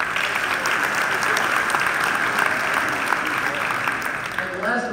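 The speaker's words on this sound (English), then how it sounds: "let's give them a round of applause" Crowd at a live-streamed gathering giving a round of applause, a broad, continuous roar of clapping held evenly for several seconds, with faint voices mixed in beneath it.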